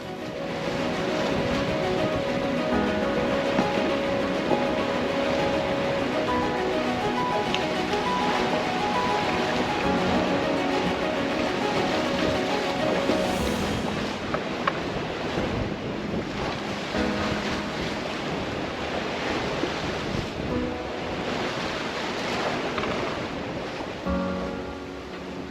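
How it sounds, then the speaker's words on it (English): Strong, steady wind, stronger than forecast, roars over open water offshore with waves and surf rushing around a sailing boat, loud and unbroken throughout. "Right now, it is a lot more windy than forecast"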